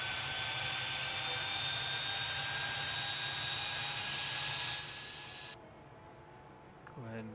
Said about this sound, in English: Little private jet.